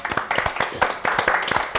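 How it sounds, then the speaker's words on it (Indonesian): An audience claps along in a quick, uneven patter for a couple of seconds during a talk show with rapai music, with faint voices underneath. "Mau tepuk tangan silakan."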